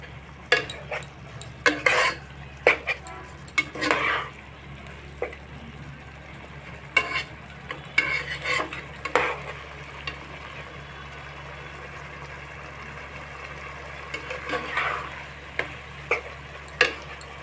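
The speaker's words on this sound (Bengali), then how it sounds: "আমি আর চার পাঁচ মিনিট ভেজে নিব ভেজে জলটা একটু শুকিয়ে নিব" Bottle gourd with taki fish fries in a pan, soft sizzle beneath repeated sharp clicks and scrapes of a spatula stirring against the pan, bursts of stirring separated by short pauses, no talking.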